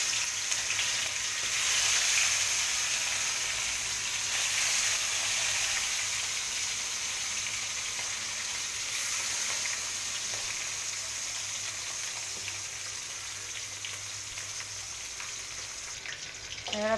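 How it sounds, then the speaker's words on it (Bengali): Fish frying in hot mustard oil in a wok makes a continuous, even sizzle with a soft rain-like hiss and occasional spits that holds steady throughout. "এবার তেলটা গরম হয়ে গেল, এবার মাছগুলো দিই কড়ায়।"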